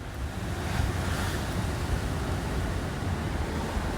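Surf and ocean waves at a Hamptons beach in Southampton, New York, a steady broadband wash rolling continuously with wind noise buffeting the microphone throughout.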